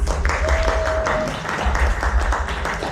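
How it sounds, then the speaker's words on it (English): An audience at a chef competition claps hands to vote for a pasta dish. The applause is a dense, steady wash of claps that lasts throughout, with a faint sustained tone above it. "If you think Abraham's pasta is going to be the winning dish, clap your hands."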